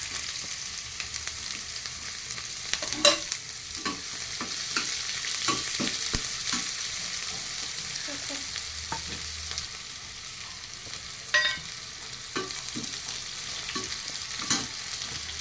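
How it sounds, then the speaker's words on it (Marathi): Chopped onions frying in hot oil with mustard seeds and cumin, a continuous loud sizzle broken by repeated scraping stir strokes of a spatula against the pan, with no voices. "तेल गरम झालेलं आहे. त्यामध्ये थोडीशी मोहरी, जिरे, 2 कांदे छोटे कट करून घेतलेले आहेत ते कांदे टाकायचे."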